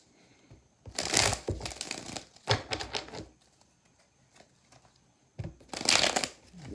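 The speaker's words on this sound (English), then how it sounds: "Two more shuffles." Tarot cards being shuffled by hand come through in three crisp riffling bursts, each about a second long and separated by brief pauses. They sound close and fairly loud, with no talking over them.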